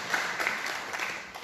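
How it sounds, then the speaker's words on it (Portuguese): Church congregation applauding a pastor at a twentieth-anniversary service, a brief wash of many hands clapping, dense and moderately loud without distinct beats. "Vamos aplaudir o Senhor pelos 20 anos."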